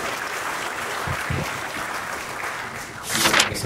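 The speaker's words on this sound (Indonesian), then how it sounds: "Kita juga tepuk tangan dulu." An audience of about 700 prosecutor candidates applauds in an assembly hall, a continuous wash of clapping that swells briefly louder near the end.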